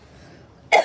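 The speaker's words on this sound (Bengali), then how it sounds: "আমার কাশিটা খুব বাজে" A single sharp cough bursts out near the end, loud and close, after a stretch of quiet room tone.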